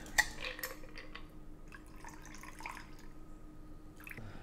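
Stirred whisky cocktail strained from a mixing glass, faint liquid trickling and dripping with a few light clinks of ice and glass, quiet and continuous with no talk.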